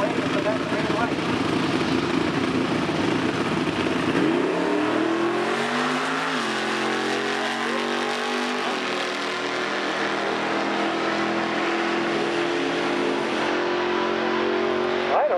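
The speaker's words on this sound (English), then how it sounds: "Corvette taking away for that green light." A Corvette launches off the line at a grassroots drag race, its engine revving hard and pulling away with rising pitch, while a commentator talks over the car's roar.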